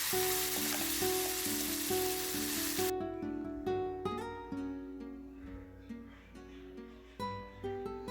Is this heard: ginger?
yes